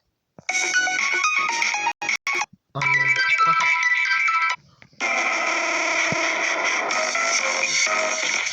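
Nokia phone ringtones play loud and bright, bursts of electronic melody broken by short silences and switching between tunes, with no talking.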